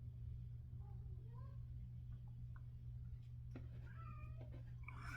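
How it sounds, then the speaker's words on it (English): Several short cat meows at moderate distance, scattered over a steady low hum, with a few light ticks near the end. "You might hear my cat meowing."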